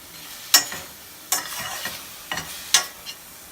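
Ground meat cooking in a pan for baked ziti, a soft steady sizzle broken by several sharp scraping stirs of a utensil, close and fairly loud.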